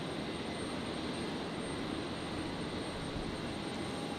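An Alliance Embraer jet in special Air Force Centenary livery lands on runway 01 left, a dense, steady engine roar and broadband rush holding at even loudness with a faint high whine on top.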